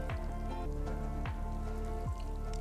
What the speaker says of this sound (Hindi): थोड़ा सा पानी हम दम पे डालेंगे